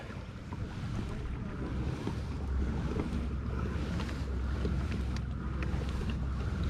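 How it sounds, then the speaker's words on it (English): An Old Town Sportsman 120 PDL pedal kayak glides steadily through open water, with a continuous wash of water and hull noise mixed with wind buffeting the microphone, close and even throughout. "this thing just cuts through the water so nice"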